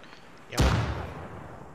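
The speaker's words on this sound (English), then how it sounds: "I think that is a mortar" A single mortar round lands in the Arma 3 combat game: one sudden heavy boom with a rumbling, slowly fading tail, moderately loud against faint background noise.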